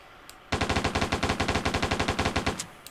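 A Steyr AUG bullpup rifle, an Austrian military weapon, fires a full magazine in one sustained burst of about two seconds, each shot sharp, loud and close in rapid even succession.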